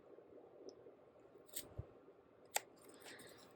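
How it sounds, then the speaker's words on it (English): Scissors snipping into the corners of sewn fabric, a few quiet, close, crisp single snips spaced apart over faint room hiss, with no talk. "I'm going to snip into the corners, but be very careful that you don't snip your stitching"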